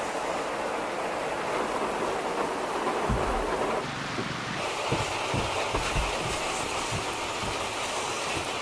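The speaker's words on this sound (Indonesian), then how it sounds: "Hujannya gede." Heavy rain pours in a steady, dense roar, loud and close throughout, with a few low thuds and a brief change in texture partway through; no one speaks.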